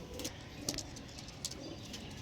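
Pigeons of a show breed coo softly in short, repeated low calls with a few sharper chirps, somewhat distant and faint against light background noise, with no talk.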